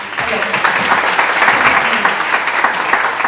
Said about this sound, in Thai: พวกเราปรบมือให้กับท่านผู้แทนนะคะ